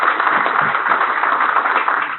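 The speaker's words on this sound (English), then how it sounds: "We'll clap for Hal." Audience applause for panelist Hal at a geothermal energy conference financing panel, a dense steady patter of many hands clapping throughout, loud and even, with no talk over it.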